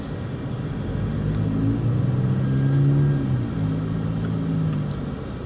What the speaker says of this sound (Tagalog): Guys, ang laki ng sasakyan na ito.